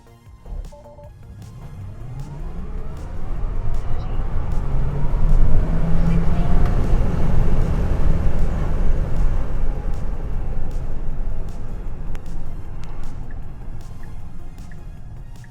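An all-wheel-drive Tesla Cybertruck launches from a standstill off the foot brake, a smooth electric rush that swells over a few seconds, holds loud with heavy low road and wind roar, then eases slightly, with no voices.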